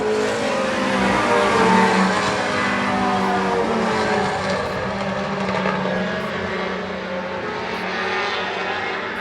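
Race cars roar around a track during a stock car event, a steady, loud, continuous engine drone from the passing pack with no voices over it.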